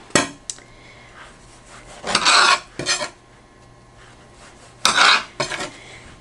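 A knife slices through cinnamon roll dough into thick pieces, giving several sharp scraping cuts against the board in separate bursts, close and clear with quiet pauses between them.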